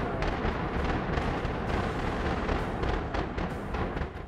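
A power plant structure is brought down by demolition charges, heard as a dense, rumbling series of deep booms and crackling blasts rolling continuously for several seconds with no break.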